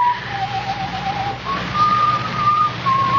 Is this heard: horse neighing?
no